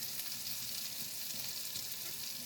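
Chicken fries in butter in a cast iron pan, giving a steady, close hiss and crackle of sizzling fat with no pauses or voices.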